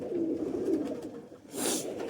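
Soft, low cooing of Sheikh-breed pigeons close by, followed by a brief rustle or flutter near the end.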